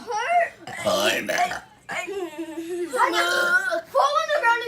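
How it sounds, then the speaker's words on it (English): Kids in a burping contest let out drawn-out, voiced burps mixed with whiny, childish vocal sounds, loud and close. "Fall on the ground and do your burp."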